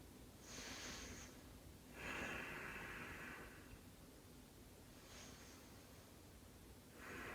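Slow, deep breaths during a lower-body yoga stretch, soft airy inhales and exhales in gentle repeated waves, close and quiet with no talking.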